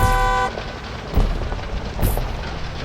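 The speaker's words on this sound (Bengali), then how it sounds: "এটার হর্ন চেক করি" A car horn in the mobile game Need for Speed gives a short tonal honk at the start, followed by low engine rumble and a couple of dull thumps, with nothing else layered over it.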